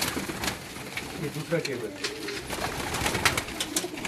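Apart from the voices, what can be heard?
pigeons cooing in a cabin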